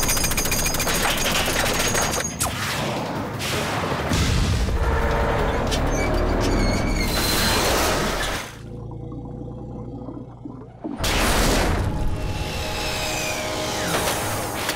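Cartoon robot defense system opening fire in Robotboy, with loud rapid bursts of mechanical gunfire and heavy booms that keep on, broken by a short lull before the shooting picks up again.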